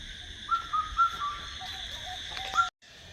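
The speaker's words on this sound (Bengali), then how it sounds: "পাখির ডাক কার কার শুনতে ভালো লাগে?" Outdoor bird calls with an owl-like hoot: a few short, clear tonal notes repeat at uneven intervals over a steady background of insect-like hiss, moderately near.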